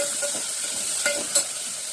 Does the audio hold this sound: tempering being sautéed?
yes